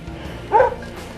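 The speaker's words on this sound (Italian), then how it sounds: "mi ha segnalato cinghiali con l'abbaio fermo, con l'abbaio grosso, cupo, sempre cadenziato, sempre costante" A hunting dog, a tracking hound on a wild boar hunt in the Apennine woods, gives a single deep, short bark amid quiet outdoor background.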